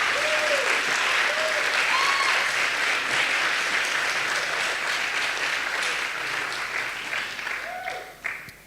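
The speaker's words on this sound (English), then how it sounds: "Round of applause." An audience at an award ceremony claps continuously, a steady wash of applause with a few whoops, gradually tapering off at the end.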